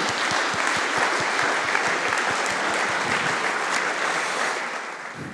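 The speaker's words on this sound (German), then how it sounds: "nochmal einen Applaus für Sie alle" Sustained applause from an audience at a volunteer recognition event in the Saxony-Anhalt state parliament, dense clapping throughout that fades slightly toward the end.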